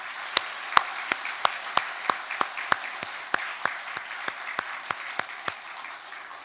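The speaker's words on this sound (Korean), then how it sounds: "박수를 올려드립니다." Congregation applause during a Christmas church service: a sparse, rhythmic clapping in near-unison, about three claps per second, crisp and fairly close, with a soft wash of scattered hands beneath.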